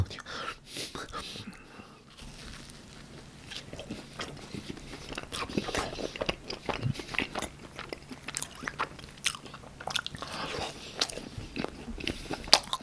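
Crunchy BHC cheese balls bitten and chewed close to the mic in a side-menu mukbang, with repeated crisp bites and wet chewing throughout, interrupted by soft whispered talk.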